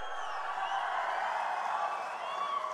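Crowd at a political rally clapping and cheering, a steady, fairly distant wash of many hands and voices without a break.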